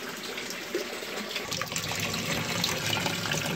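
Steady rushing and gurgling of water running through a U siphon in an aquaponics or hydroponics setup, continuous and fairly loud, building slightly toward the end with no talking.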